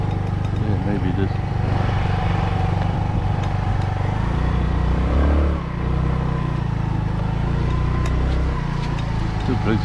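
A scooter engine runs steadily at a fast, high idle close by, its buzzing drone continuous with slight fluctuations and wind rumble.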